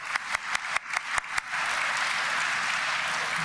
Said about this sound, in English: a round of applause for our great timekeeper